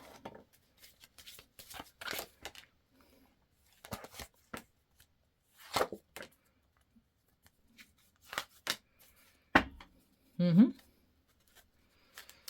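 Tarot cards shuffled and pulled in short, scattered rustles and flicks, close and fairly quiet, with bits of talking in between.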